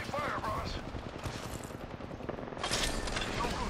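Video game gunfire, dense rapid bursts of shots going on throughout and getting louder near the end, mixed with game sounds and a brief voice.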